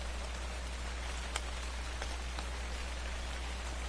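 Rain falls steadily in the video game Ark Survival Evolved at night, an even, continuous patter with a few faint louder drop ticks and no voices.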